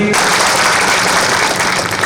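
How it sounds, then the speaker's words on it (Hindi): Loud, dense crowd applause at a political rally in Khandela welcoming a union minister; a continuous wash of many hands clapping close by. "एक बार जोरदार तालियों के साथ हम अभिनंदन और स्वागत हमारे केंद्रीय मंत्री"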